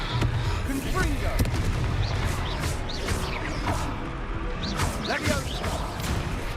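Confringo fire spells blast in Hogwarts Legacy, a rapid run of loud booming explosions and crackling impacts over dense battle noise, with a voice speaking through the fighting.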